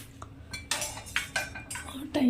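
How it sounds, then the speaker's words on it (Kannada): Pots and cooking vessels being stacked and arranged in a home kitchen: a run of close metallic clanks and clinks, several distinct knocks with short ringing tails, under faint background voice. "ಇವಾಗ ನಾನು ಈ ಪಾತ್ರೆಗಳನ್ನೆಲ್ಲ ಜೋಡಿಸ್ಬಿಟ್ಟು"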